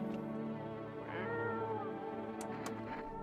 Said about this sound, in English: At least I can pet the cat.